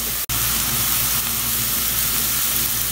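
Onions fry in a hot pan toward golden brown for a chicken tikka masala, giving a steady, loud, close sizzle that runs continuously apart from one brief click near the start.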